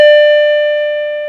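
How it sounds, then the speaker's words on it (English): An M&S MC602 radio intercom master station's chime module rings a single electronic tone, clear and bright, sustained and slowly fading over about a second with nothing else heard. "Oh, and we can ring the chime module. So we'll ring it. It's a 1-note or 3-note chime module."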